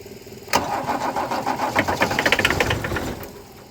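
A Mercedes W123 300D diesel parked for 20 years cranks over, building into a rough, uneven knocking chug that runs about two seconds before fading, close and alone with no voices.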